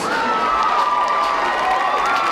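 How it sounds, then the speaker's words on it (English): A school spirit show crowd cheering and applauding for middle school performers, a loud, continuous wash of shouts and claps with a sustained high voice tone running through it, steady throughout. "let's give another round of applause to all of our Ellison Eagle performers"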